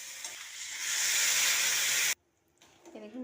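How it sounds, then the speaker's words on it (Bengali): Water poured into a pan of fried vegetables with peas and coconut sets off a loud, rising hiss of steam for about two seconds. It cuts off abruptly and is followed by quiet and a brief voice. "এবার জল দিয়ে দেবো।"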